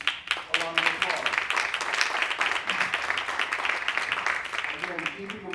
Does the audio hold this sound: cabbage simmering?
no